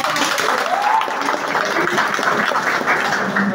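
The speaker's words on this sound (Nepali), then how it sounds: "उहाँको सम्मानका लागि सबैले एकपटक ताली बजाएर" Steady applause from a crowd, a dense, continuous patter of clapping that carries evenly through the whole clip.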